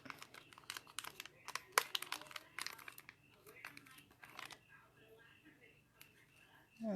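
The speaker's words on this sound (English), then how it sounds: "Has a little tab here that you can rip it like" Tearing open the tab on Color Street nail strip packaging: a close, crinkly run of rips and crackles over the first few seconds, then softer rustling handling noise.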